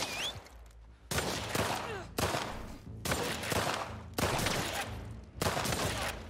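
Gunfire in the video game The Last of Us Part II comes in five loud, evenly spaced bursts of rapid shots about a second apart, with no talk over it.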